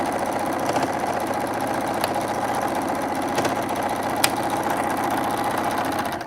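Sewing machine stitching a quilt-as-you-go Christmas stocking made from squares, a steady, close, rapid mechanical whir and needle chatter running throughout.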